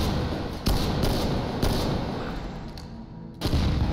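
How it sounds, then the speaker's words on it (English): Semi-automatic shotgun firing in a video game: four loud, sharp blasts spaced unevenly about a second apart, each with a booming decay over a dense continuous background. "If I miss, I just shoot again. Boo-hoo. It's a semi-automatic shotgun."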